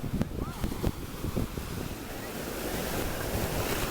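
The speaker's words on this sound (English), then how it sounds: "just listen to the water waves" Ocean waves rolling and breaking along a Hawaii shoreline, a steady broad wash of surf with wind buffeting the microphone, louder gusts early then a continuous roar.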